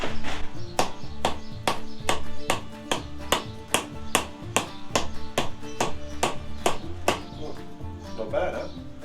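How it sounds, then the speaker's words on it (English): Repeated sharp taps of a hammer striking a surface during testing, roughly a dozen crisp knocks in an uneven rhythm, close and clear, with quieter knocks and low background sounds between them. "hopefully non-destructive hammer testing, but definitely some hammer testing."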